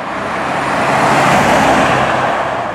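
A Bentley Mulsanne accelerating hard, a loud, dense roar of engine and road noise that swells and holds steady, heard from inside the car.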